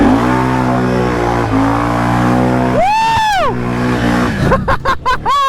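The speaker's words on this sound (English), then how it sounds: "I'm just revving the dog piss out of it in low gear" A Can-Am Outlander ATV engine revs hard at full throttle in low gear, whining steadily, then surging sharply in a rising-and-falling rev, followed by several quick choppy blips near the end.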